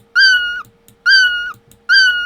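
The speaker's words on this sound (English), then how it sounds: "my pitch effect now is 100 and my sound meow is completely different now" Three drawn-out, high, pitch-shifted cat meows, evenly spaced and loud, each a thin, crying tone with short silences between.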